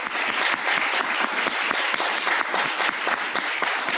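Audience applause fills a hall in Gosen, Niigata after a rakugo comedy performance, with dense, steady clapping from many hands sustained throughout at a close, loud level.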